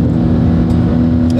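A 1300 hp Porsche 911 Turbo S accelerating at high speed, a loud, steady engine drone heard close up from inside the car.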